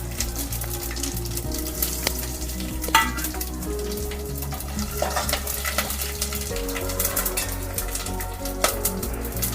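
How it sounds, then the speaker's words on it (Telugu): Whole spices (cardamom, bay leaf, shahi jeera, mace, cloves and cinnamon) sizzle steadily in hot oil for pulao, with a loud, constant fry and occasional clinks of stirring against the pan. "హోల్ మసాలా వేసేద్దాం"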